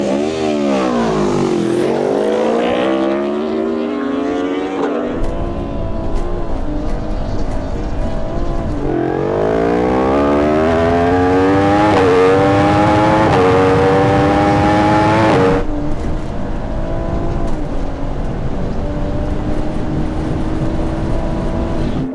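Engines roar and rev hard through rising gear changes, a BMW M140i and a high-pitched Yamaha R1 superbike accelerating together at full throttle in a drag race, loud and close.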